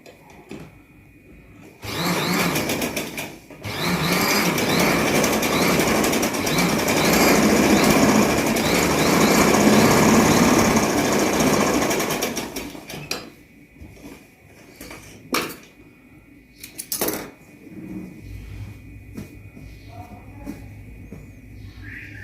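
A sewing machine runs continuously for about ten seconds stitching pintucks on trouser fabric, a loud close mechanical whir that then stops, followed by a few quieter clicks and handling noises.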